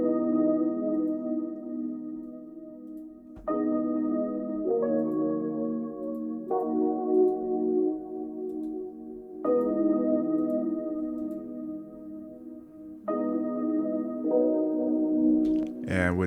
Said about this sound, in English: it's the D50 E piano from Roland Super JV synth